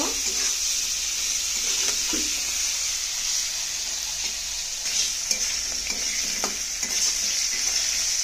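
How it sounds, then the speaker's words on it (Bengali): Shrimp from the field-greens curry frying in hot oil, giving a steady broad sizzle with occasional stirring clicks and small pops, close and continuous with no voices. "মাছগুলো আমি ভালো করে ভেজে নেব।"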